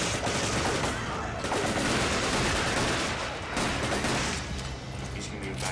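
Dense, loud, near-continuous rapid gunfire from the Resident Evil: Desperate Escape video game, with barely a pause across the stretch.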